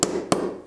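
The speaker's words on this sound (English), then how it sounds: "very carefully with my transfer punch, just tap it in place and identify the location for these two screw holes" A transfer punch is tapped into wood to mark screw holes for an art clock: two sharp, close taps about a third of a second apart, each ringing briefly before decaying.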